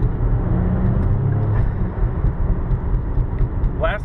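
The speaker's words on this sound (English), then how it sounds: "So let's go take this baby for a drive." A Saab with XWD all-wheel drive rolls along at steady speed, giving a continuous low road and engine rumble heard from inside the cabin, with a brief brighter noise near the end.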